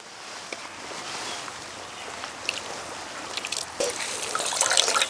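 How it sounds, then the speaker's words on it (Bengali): Water trickles and splashes over freshly made chhana (cottage cheese) as it is rinsed, a soft continuous pour that grows busier and louder toward the end, with no voices. "ছানা এবার জল দিয়ে ধুয়ে নেব"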